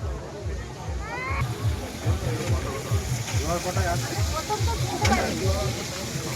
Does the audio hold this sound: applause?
no